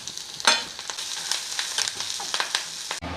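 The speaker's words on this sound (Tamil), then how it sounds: "எண்ணெய் சூடானது இந்த வெங்காயத்தை 2 வத்தலும் போட்டு இது வதக்கி அதில் போடணும்" Onions and two dried red chilies sizzling in hot oil as a tempering for mor kulambu, a bright, crackling fry with quick stirring scrapes, close and continuous for a few seconds before an abrupt drop.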